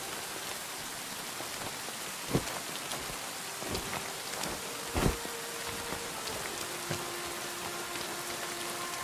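Steady, dense rain falls in Kingdom Come: Deliverance II, a constant hiss with occasional heavier drops and low, dull thuds rising briefly above it.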